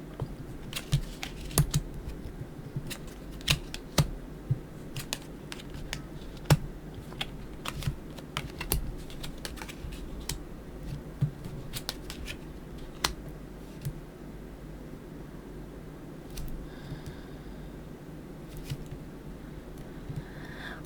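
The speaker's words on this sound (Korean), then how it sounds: "타로 카드 열어보도록 할게요" Tarot cards shuffled and laid out on a table during a weekly horoscope reading, heard as a steady run of small quiet clicks, taps and flicks of card stock over about twenty seconds with no talking.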